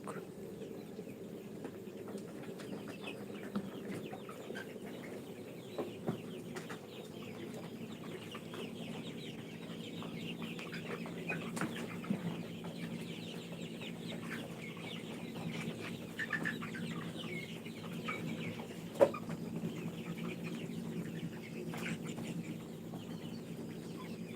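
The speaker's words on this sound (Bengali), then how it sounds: "এটা একটা রাতা মুরগ" A rooster clucks intermittently on a farm amid a busy background of other fowl, with a voice speaking faintly at times and one sharp knock late on.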